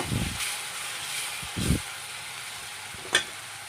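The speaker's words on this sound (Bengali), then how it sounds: "তেল গরম হওয়ার পর পেঁয়াজ দিয়ে নাড়তে পারছি" Onions sizzle softly in hot oil for a cauliflower and shrimp dish, with a few low thumps from stirring and one sharp scrape near the end.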